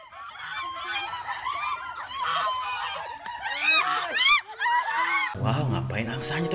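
White geese honk loudly and repeatedly at close range while chasing people, their harsh calls coming in quick overlapping bursts before a voice speaks near the end.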